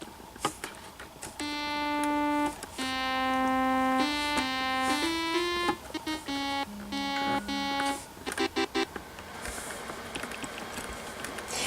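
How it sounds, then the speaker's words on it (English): A Casio SHS-10 keytar's thin electronic keyboard tone, its battery dying, warbles and stutters, pitch sagging and breaking into glitchy choppy fragments, then dissolving into crackly noise bursts. "what it sounds like when the SHS-10's battery dies"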